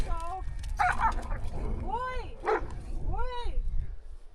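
Two dogs bark and yelp in a scuffle outdoors in a remote Chinese highland, several sharp rising cries heard close, with a person's voice in between.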